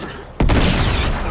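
A grenade blast in the action game Uncharted 3: Drake's Deception goes off as a single sudden loud boom after a brief lull, then rolls into a sustained, dense rumble of debris and gunfire-like crackle that slowly fades.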